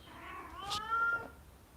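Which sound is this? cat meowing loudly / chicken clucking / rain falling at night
cat meowing loudly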